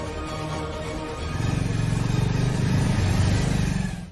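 Car pulling away quickly, engine note rising and swelling to a strong, pulsing rev as it accelerates, then cutting off abruptly at the end, with faint background ambience underneath.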